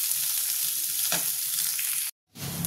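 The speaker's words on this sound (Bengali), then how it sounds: "পেঁয়াজটা আমি লাল করে ভেজে নেব।" Onions browning in oil with bay leaves and dried chillies give off a continuous near crackling sizzle, broken by one soft knock of a utensil and a brief silent gap before the frying resumes.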